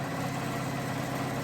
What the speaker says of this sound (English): So let's go ahead and sew that. I'm doing a straight stitch on this one.